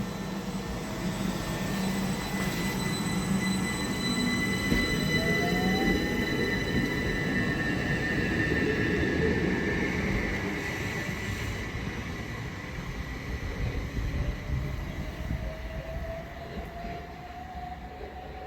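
Class 375 electric multiple unit 375-306 running at Cuxton station on the Medway Valley Line, a sustained close rumble and rushing roar with high whining tones that slowly fades, heard alone without talk.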